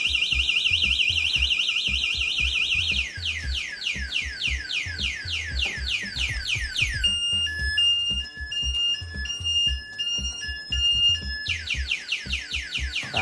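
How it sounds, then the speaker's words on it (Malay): A Fiido Q1S electric bike's anti-theft alarm blares up close, cycling through rapid rising whoops, then a stuttering beeping pattern, then whoops again, loud and continuous. "Kunci alarm dia. So kita try. Tu. Dah bunyi."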